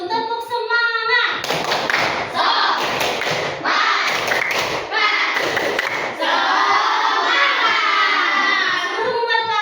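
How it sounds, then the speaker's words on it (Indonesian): Classroom of children doing the 'tepuk semangat' clapping chant, bursts of rhythmic group clapping and thumps alternating with loud shouted chanting voices, led by a teacher whose voice is heard at the start. "kita tepuk semangat dulu. Tepuk semangat."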